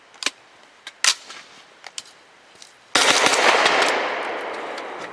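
Suppressed shots from a Grand Power Stribog firing subsonic 124 grain jacketed hollow point rounds: several short muffled cracks spaced apart, then a louder sustained burst of noise that slowly fades.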